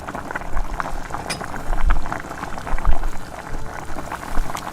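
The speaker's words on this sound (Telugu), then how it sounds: "ఇప్పుడు మనం చేప ముక్కలని ఫ్రై చేసుకోవాలి." Marinated fish pieces coated in masala fry in hot oil with a dense, steady sizzle and crackle, close and fairly loud, with small popping bursts throughout.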